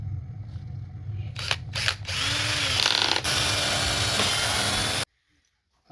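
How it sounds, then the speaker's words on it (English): A power drill whirs steadily at close range, drilling a hole in a car sun visor, after a couple of sharp clicks, running for a few seconds before cutting off abruptly into near silence. "We drill hole here."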